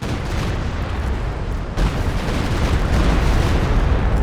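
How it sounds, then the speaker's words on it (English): Rocket artillery barrage in the World War II strategy game Company of Heroes 2, a dense continuous rumble of launches and blasts that swells louder partway through, with no talk. "I'm sending in my rockets"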